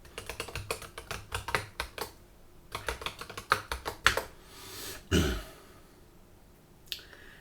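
Fingers typing a password on a computer keyboard, a run of close, crisp key clicks in uneven bursts, then a brief rustle and a last isolated tap.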